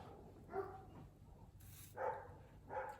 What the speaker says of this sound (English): the dogs are barking at something or other